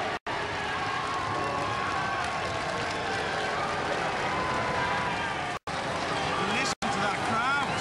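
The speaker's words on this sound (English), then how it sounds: "You've got the people shouting Stinger, and you've got people booing the decision from the Panic Attack crowd" Arena crowd at a robot combat event reacting to a judges' decision, loud continuous roar of shouting, booing and cheering, with a commentator talking over it.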